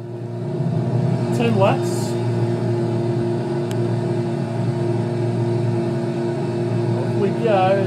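Race car engine in Gran Turismo 5 at the start of a race at Twin Ring Motegi, driving a 2012 GT Academy Nissan: a steady loud engine drone with rising rev sweeps, under someone talking.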